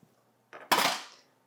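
A spoon clinks and scrapes against a pot while vanilla extract is stirred into a sauce, one short metallic clatter, close and alone.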